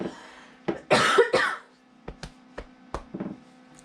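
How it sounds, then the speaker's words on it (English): A person coughs a few times close up, a harsh burst followed by several short, sharper coughs and a throat-clearing rasp. "Pardon me, that's a cough."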